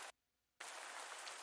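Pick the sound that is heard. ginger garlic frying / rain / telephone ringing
rain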